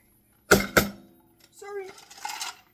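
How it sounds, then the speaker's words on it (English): Ice cubes drop into a glass of drink with two quick, close, bright clinks, followed by a voice. "Ice goes in."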